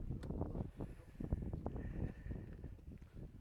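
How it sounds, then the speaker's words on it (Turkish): Wind blowing hard outdoors, buffeting the microphone with a steady low rumble and rushing gusts that rise and fall throughout. "Bak burası esiyor abi ya"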